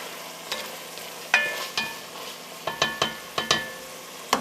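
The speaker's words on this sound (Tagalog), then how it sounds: "translucent na yung ating onions. Let's put our garlic. Ihalo lang ulit natin." Garlic and translucent onions sautéing in a pan, with a low sizzle broken by repeated sharp scrapes and clacks of stirring at an uneven pace.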